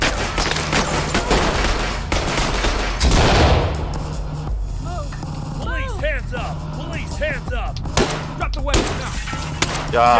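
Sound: gunfire in the video game Ready or Not

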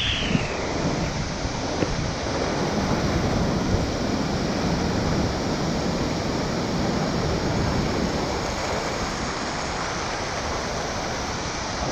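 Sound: strong river current at a waterfall

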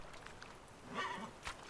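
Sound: horse Roach in The Witcher 3 video game

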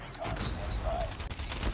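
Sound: gunfire in the video game Call of Duty Mobile

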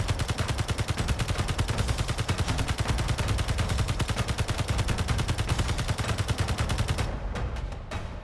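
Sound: gunfire in Space Engineers video game

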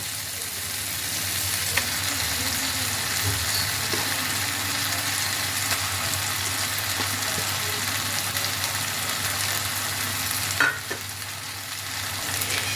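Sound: eggplant added to frying spice masala, sizzling

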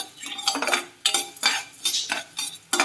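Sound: stirring coriander seeds frying in a pan

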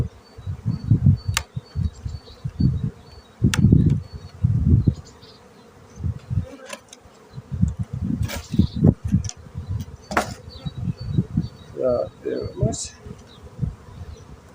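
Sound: honey bees buzzing around hive frames

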